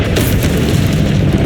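A Confringo fire spell from Hogwarts Legacy detonates in a loud, close, rumbling explosive burst that fills the whole brief moment.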